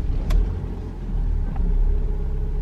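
A Cadillac ATS 2.0T with a six-speed manual idling and rumbling low as the car is moved a short distance, fairly quiet and close, with a couple of brief faint clicks.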